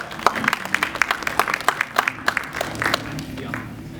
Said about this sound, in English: give yourself a round of applause for making this screening happen